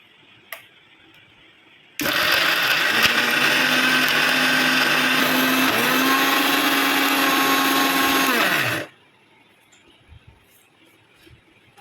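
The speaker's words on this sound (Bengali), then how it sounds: "এবার আমি মিক্সটা ঘুরিয়ে নেব" A mixer grinder whirs loudly for about seven seconds as it blends chicken paste with lime juice and salt, its motor pitch steady, then dipping briefly mid-run before cutting off abruptly into quiet.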